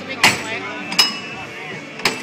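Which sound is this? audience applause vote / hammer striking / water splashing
hammer striking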